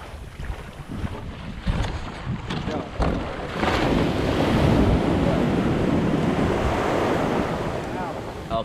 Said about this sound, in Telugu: ఈ బోట్ ఎక్కడమే పెద్ద గగనం ఇప్పుడు